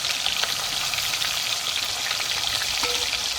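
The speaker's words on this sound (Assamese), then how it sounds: "এতিয়া মই মাছখিনি ফ্ৰাই কৰি লৈছোঁ।" Fish fries in hot oil with a close, steady sizzle and scattered crackles and spits, uninterrupted by voices.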